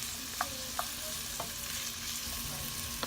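Red onions sizzle steadily in a pan as they soften, with a constant frying hiss and a few light clicks of stirring scattered through it.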